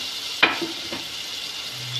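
A sharp clack is followed by a steady, hissing sizzle of chillies dropped into hot oil for tempering, which continues quietly with faint crackles.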